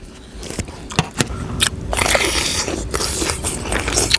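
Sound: biting crunchy candied Thai jujube (phutsa chae im)

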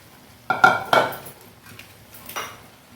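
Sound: stirring and mixing shevla vegetable in a pan

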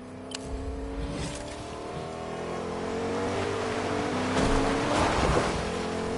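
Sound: truck driving in Fortnite video game

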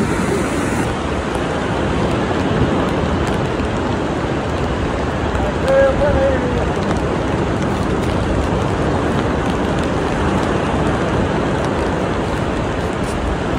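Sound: rain on rocky beach shoreline

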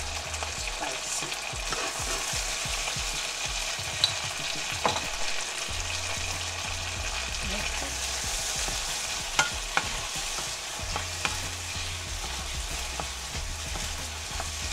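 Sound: stir-frying cucumber with butter, garlic and chili sauce

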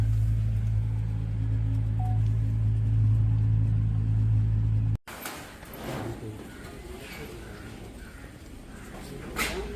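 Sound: car engine driving off

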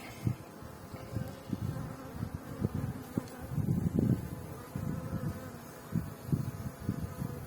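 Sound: honey bees buzzing around hive

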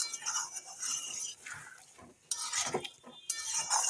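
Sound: stirring and sautéing fried potatoes with spices in a pan

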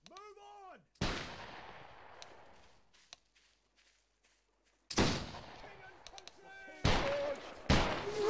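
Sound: gunshots in the video game Battle Grounds III

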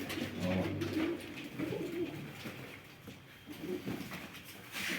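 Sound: pigeons cooing, grey crested female

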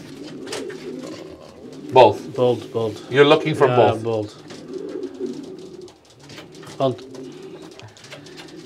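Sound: pigeons cooing in a racing pigeon loft

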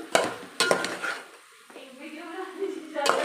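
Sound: stirring paneer and capsicum in a cooking pot

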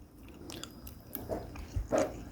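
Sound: chewing semi-dried bluegill fish

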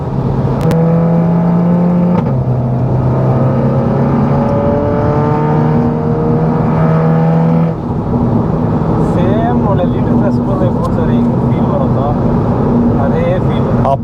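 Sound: sports car engine accelerating with automatic gear shifts

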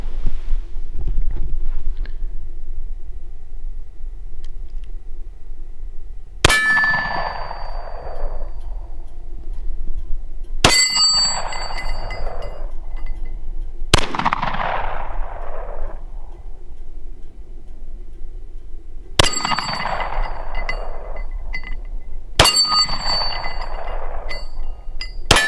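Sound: gunshots fired at targets

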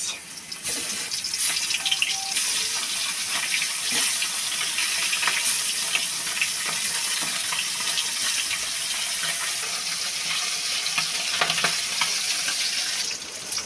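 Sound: tengra fish frying in oil in a wok

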